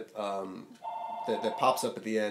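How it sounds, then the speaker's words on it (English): An office telephone rings on and on, its bright electronic tone sounding beneath a person speaking close by. "It's the phone ringing, and it's just gonna continue to ring until it goes to voicemail."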